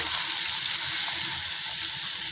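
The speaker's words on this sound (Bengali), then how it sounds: "এবার জল দিয়ে দেবো" Water is poured into a pan of cooked-down poppy seed paste for a rui posto fish curry, a loud, rushing hiss that gradually eases off, with no one speaking.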